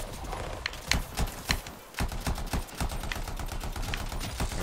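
Rapid bursts of automatic gunfire in the sci-fi shooter video game Anthem, dense rattling volleys fired close and loud with brief pauses between bursts.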